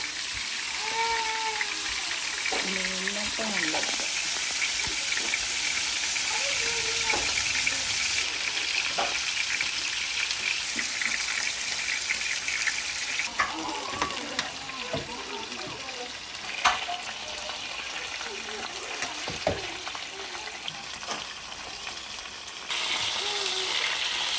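Fish frying in a pan, a steady hiss of sizzling oil running throughout at moderate level, with occasional clinks and stirring, plus brief voices talking.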